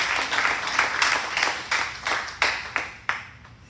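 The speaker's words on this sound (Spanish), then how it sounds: "Denle un fuerte aplauso a Dios porque es bueno" A church congregation claps in strong, rhythmic unison, each beat landing as a loud, evenly spaced burst, roughly two or three per second, continuing for several seconds.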